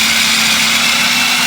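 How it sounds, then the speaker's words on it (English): An electric grater grates mozzarella cheese in a home kitchen, giving a loud, steady, high-pitched motor whine with a constant hum close to the microphone and no voices. "I'm going to grate my mozzarella."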